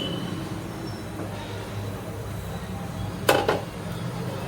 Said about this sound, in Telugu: కళాయి పెట్టుకుందాం.